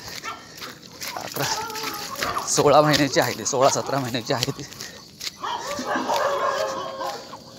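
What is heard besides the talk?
street dogs barking at a golden retriever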